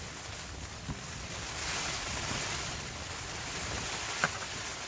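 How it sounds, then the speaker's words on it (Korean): Strong typhoon wind sweeps across a riverside campsite in a steady, broadband roar that swells slightly in gusts, with a couple of faint knocks and no talk. "바람이 엄청납니다"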